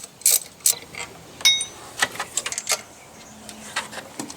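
Ratchet wrench loosening bolts on the belt tensioner housing of a BMW E36 engine: quick clicking pawl bursts, a few metallic clinks and light rattles, close and moderately loud.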